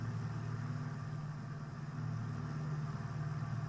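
Piper PA-30 Twin Comanche twin piston engines droning steadily in X-Plane 11, a loud continuous low hum with a slight dip in level partway through, no voices.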